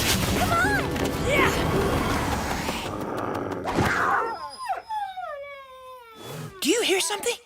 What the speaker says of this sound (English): Do you hear something? Like maybe that dog?